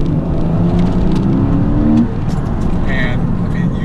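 A Porsche with a PDK gearbox accelerates in Sport Plus mode, its engine note climbing loudly and then dropping away around a shift, with road and wind noise close by.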